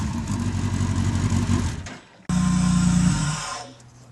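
A modified 200-horsepower Mini weighing 750 kilos, its engine loud and close, revs hard, drops off briefly, then surges again before settling back toward idle.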